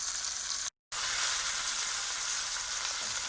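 Osso buco sears in a hot pan, a steady loud sizzle that cuts out for a moment and then resumes without any talking.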